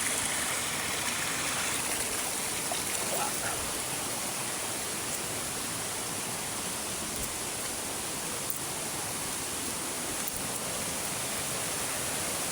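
A cold, clear stream at the Bagsit river in Mindoro tumbles like a small waterfall, giving a constant, close, hissing rush of water that stays even throughout, with no talking.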